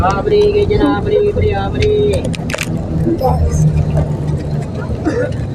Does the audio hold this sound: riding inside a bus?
yes